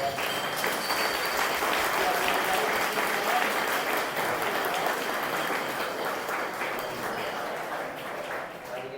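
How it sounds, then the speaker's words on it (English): An audience applauds a mixed reality panel at a Boston VR/AR meetup, sustained dense clapping from a roomful of people that holds for several seconds before slowly fading. "Let's give a round of applause for"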